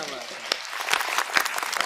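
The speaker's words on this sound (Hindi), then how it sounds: "तालियां बजा दीजिए एक बार।" Steady applause from an audience at a kavi sammelan poetry gathering, a dense patter of clapping that swells slightly toward the end.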